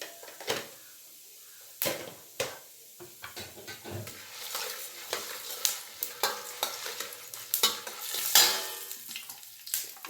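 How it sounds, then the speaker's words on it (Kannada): Turmeric powder dropped into hot oil in a pan while making lemon rice, with sharp scraping stirs and clinks of a spoon over a light sizzle, close and alone without talk. "ಈಗ ಎಣ್ಣೆನಲ್ಲೇ ಸ್ವಲ್ಪ ಅರಿಶಿನದ ಪುಡಿ ಹಾಕೋಣ"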